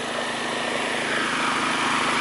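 A PEZAL PGG1000E-E3 generator with a large 500 cc engine runs steadily, a loud continuous droning hum with a throbbing low pulse, close by and with no talk.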